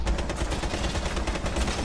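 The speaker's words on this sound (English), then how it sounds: "Oh my god, I got shot as soon as I went in." Rapid gunfire from the Rainbow Six Siege video game, a dense, loud stream of overlapping shots filling the whole moment with no pauses, sounding close and continuous.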